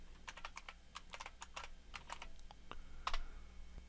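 Computer keys are tapped in a quick irregular series as a password is typed, crisp close clicks with brief pauses and one slightly louder press near the end.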